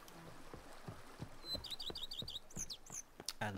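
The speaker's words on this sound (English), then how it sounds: "And the birds are singing, everything is nice." Birds sing in The Witcher 3: Blood and Wine, quiet repeated chirps and short whistled phrases over a faint watery background with intermittent soft clicks, no talking.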